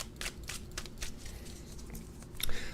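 Tarot card deck being shuffled by hand, a series of soft, close riffling and slapping bursts of card noise, fairly quiet, with no talking.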